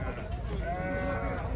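Sheep bleat at the Sokuluk livestock market, a wavering nasal call rising out of a low crowd murmur for about a second, fairly quiet and close.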